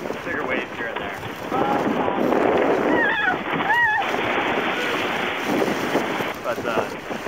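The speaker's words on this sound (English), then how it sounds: "Gray, chilly. Windy, choppy, and hasn't been a whole lot of variation from that." Wind roars and choppy Atlantic waves slosh around a small ocean rowing boat, a constant dense rush of air and water close to the microphone, with brief whistling gusts midway.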